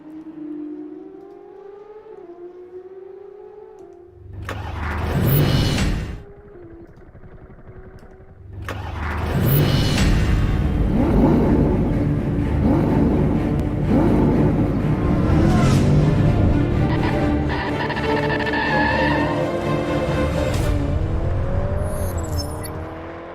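Porsche Supercup race cars pull out onto the Daytona track in a racing video game, engines revving and droning loudly together in a sustained, rising roar, with a brief burst of engine noise before the full field gets going.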